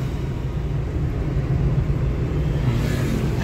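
Low, steady rumble of a car driving along a road, heard from inside the vehicle as a continuous engine and road hum with no talking.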